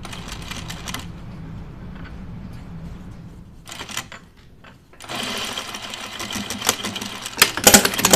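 Sewing machine stitching a seam on a cupcake or pie slice pincushion, a close, loud rapid whir in bursts with a short pause and light handling clicks before stitching resumes.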